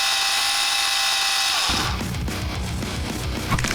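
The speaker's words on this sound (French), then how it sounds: "Prenons une scie et mettons-nous au travail. Coupons une tête d'une girafe et une d'un tigre." A saw cuts through the necks of a toy giraffe and tiger; a smooth whine gives way to a loud, rough, rhythmic grinding as the blade bites into the toy, close and continuous.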